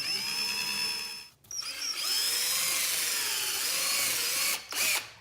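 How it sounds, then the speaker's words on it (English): A 1/2-inch power drill bores holes through a Jeep Wrangler JL rear door MOLLE panel, whining loud and close in sustained bursts with a brief pause and a short second spin-up near the end. "you want to use your 1/2-inch drill and drill those out"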